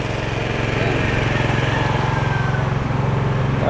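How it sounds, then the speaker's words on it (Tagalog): An air compressor motor on a roofing job site runs steadily nearby with a loud, even rhythmic chug and drone throughout. "Itong compressor. Ayan. Yung compressor,"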